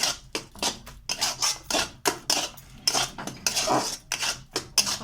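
Amla paste being rubbed and mixed by hand in a bowl, with rapid, rhythmic scraping and clinking strokes close by, repeated steadily, with no speech.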